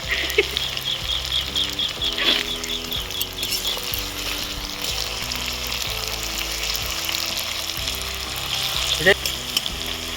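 Onions and bay leaves sizzling and frying in a pan for Bengali-style fried rice, a steady close crackling hiss with occasional sharper pops and stirring scrapes, continuous throughout with no talk.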